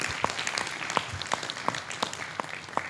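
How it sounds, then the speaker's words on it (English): An audience at an environmental summit applauds, a steady wash of clapping with sharp, evenly spaced beats standing out roughly three times a second, and no talking over it. "why don't we just clap for the amazing work that she's doing"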